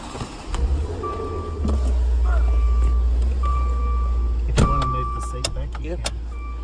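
An electric window motor on a Maserati Quattroporte limousine hums steadily over a low idling engine, with a few clicks and thumps and faint background voices.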